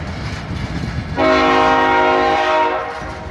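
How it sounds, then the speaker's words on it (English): A BNSF tanker train in Piscataway sounds its horn, a loud sustained multi-tone blast that starts about a second in over the rolling rumble of the slow-moving train and fades near the end. "I see a BNSF tanker train today."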